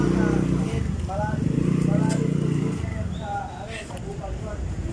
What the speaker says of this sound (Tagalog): nilalabas na yung aming motor